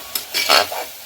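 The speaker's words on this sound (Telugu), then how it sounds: "ఇప్పుడైతే కందనకాయలు వేసేస్తా." Kandana kaya beans tipped into a hot pan of chicken curry with tomato, fenugreek leaves, coriander and mint, giving a short burst of sizzling and stirring up close, with no one talking.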